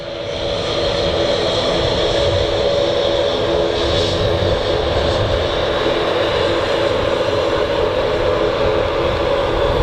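Finnair Embraer 190 jet departing Manchester Airport, a loud, steady engine roar and rumble sustained throughout, with no speech.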